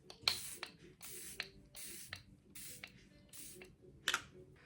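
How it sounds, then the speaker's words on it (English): Several short spray bursts hiss from a Charlotte Tilbury Airbrush Flawless makeup setting spray pump bottle, about four quick spritzes spaced apart with faint clicks between them. "Set everything in place with the Airbrush Flawless Setting Spray."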